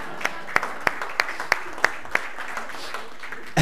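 A church congregation claps in a steady rhythm of sharp, evenly spaced claps over a crowd murmur, with a burst of cheering rising at the very end.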